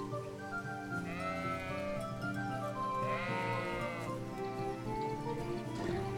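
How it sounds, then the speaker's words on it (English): Sheep bleating in Kingdom Come: Deliverance, two long wavering bleats a couple of seconds apart over a soft game ambience, fairly close and no talking. "This reminds me of Metal Gear Solid 5 and you can run punching sheep."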